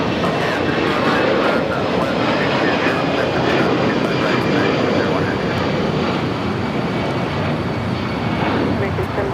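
A United heavy jet airliner roars loudly on its takeoff at LAX, a continuous broad, rushing engine noise that holds steady and close for the whole stretch.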